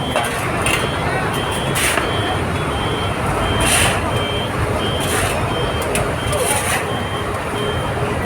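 A dump truck backs up with a repeated high reversing beep at steady intervals. Diesel engine noise and other site sounds rumble underneath at moderate loudness.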